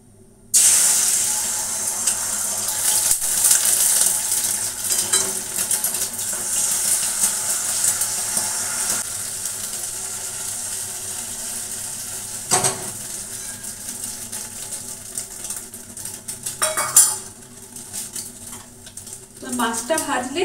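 Egg omelette cooking in a pan, a continuous close hiss and sizzle with occasional clinks and scrapes of a utensil, fading slightly toward the end.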